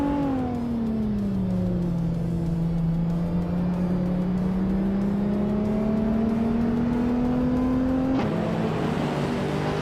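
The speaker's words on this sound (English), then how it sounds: "the race kicks off at Istanbul Park with Crazy Sweet But on pole and a 1994 Acura NSX" Race cars in a video game starting a race at Istanbul Park, with a 1994 Acura NSX among them: a steady engine drone whose pitch dips and climbs as the cars accelerate, with a sharp gear change near the end.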